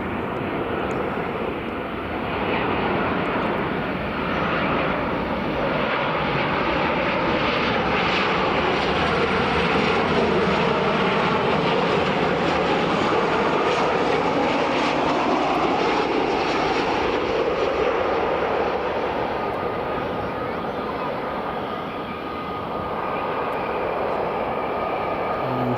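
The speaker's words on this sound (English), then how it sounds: "here comes the Ryanair from Gdańsk" A Ryanair airliner arriving from Gdańsk roars in at Edinburgh Airport, a loud, sustained jet rumble that swells and holds for many seconds before easing slightly near the end.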